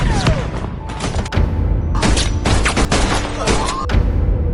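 Gunfire in a film scene: several loud shots and heavy impacts burst out in quick clusters, separated by brief gaps, over a dense action soundtrack.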